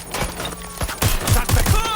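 Rapid gunfire in the video game Watch Dogs Legion, a burst of loud repeated shots with heavy low thumps in the second half, with shouted voices mixed in.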